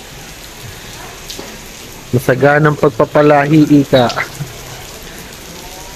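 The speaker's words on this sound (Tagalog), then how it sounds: "Naabot ng ulan guys." Steady rain falls outdoors at a market in Tagaytay, a constant hiss throughout, while someone talks over it for a couple of seconds.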